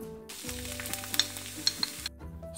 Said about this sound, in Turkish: Soğanlar pembeleşinceye kadar kavuralım.